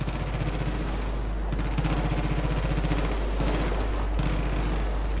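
Rapid bursts of gunfire in the video game Far Cry 5, steady dense volleys like a firefight, loud and continuous with game ambience and no speech.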